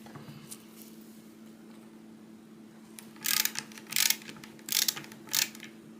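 Screws being tightened into an old Swiss K31 rifle barreled action: a faint steady hum, then four short bursts of rasping, ratchet-like clicking in the second half, close up and with no talk.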